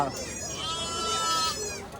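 Goats bleat at a busy livestock market in Muthur, Tiruppur, Tamil Nadu, with wavering calls rising over the crowd's noise while people talk close by.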